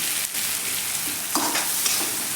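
Onion and tomato sautéing over medium heat for dhaba-style egg masala: a continuous close sizzle with a few stirring scrapes of the spatula, alone with no talk.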